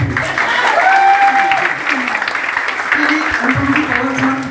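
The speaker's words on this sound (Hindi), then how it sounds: "एक बार अपने लिए तालियां बजा लो यार" Attendees at a community center gathering clap for themselves, sustained applause running throughout while voices talk and call out over it.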